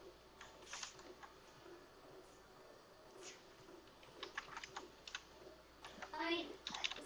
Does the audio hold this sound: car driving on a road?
no